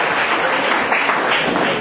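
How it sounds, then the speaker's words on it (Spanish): Church congregation applauding together, a steady dense wash of many hands clapping at close range, continuous and even in loudness throughout with no voices standing out. "vamos a brindarle otro fuerte aplauso a Jesús, el autor y consumador"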